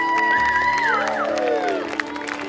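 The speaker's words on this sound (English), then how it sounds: "Give her a round of applause, please." A crowd at an evening Relay for Life track event cheers and whoops with scattered clapping, voices and shouts rising and overlapping before easing off, fairly loud and close.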